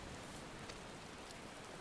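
Rain falls in the video game Final Fantasy XIV as a dense, steady hiss, soft and even, with no talking.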